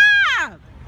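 A crow lets out one loud, harsh caw that drops in pitch and fades within half a second, close by, while it fights a much bigger bird.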